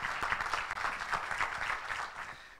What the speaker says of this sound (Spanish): Vamos a recibir con un aplauso doctor Javier J. Hernández Acosta